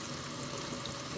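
Water pours from a tap into a cooking pan, a soft steady running hiss with a low background hum, quiet and continuous.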